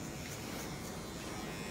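Electric hair clipper buzzing steadily and continuously during a graduated fade haircut, a close, even hum with no pauses.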